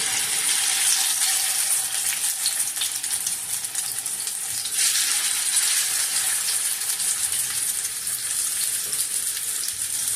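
Gola kebabs dropped into hot oil give a steady, loud frying sizzle that keeps going with no break and no voices over it.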